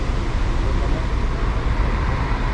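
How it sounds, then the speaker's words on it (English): Steady low rumble of a busy bus station platform in Zagreb while waiting for a Flixbus, with engine and traffic drone filling the space continuously and no clear voices standing out. "we are down at platform 201 waiting for the bus"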